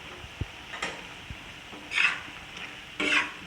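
Yogurt is stirred into liver masala frying on a tawa: a low sizzle under a few taps and two bursts of scraping as the spoon moves through the mixture.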